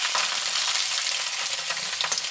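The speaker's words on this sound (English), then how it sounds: "Salmon goes in to the pan." Salmon sears in a hot pan with olive oil, a steady, close, dense sizzle and crackle that holds evenly throughout with no voice.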